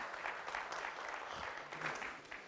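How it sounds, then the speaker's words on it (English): A conference audience claps for panelists arriving on stage in an informal setting, a moderate, continuous patter of hands at some distance, fairly quiet. "You can clap them if you want."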